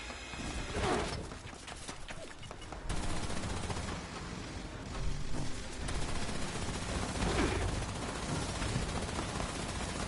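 Rapid gunfire from a vampire weapon in a post-apocalyptic wasteland video game, dense bursts rattling continuously for about ten seconds with a brief lull near the three-second mark.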